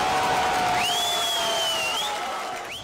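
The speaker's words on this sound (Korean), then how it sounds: "가결 소식에 일제히 환호합니다" A crowd in Turkey roars and cheers at the constitutional referendum result in a dense, steady wash of noise, with a whistle rising and falling above it.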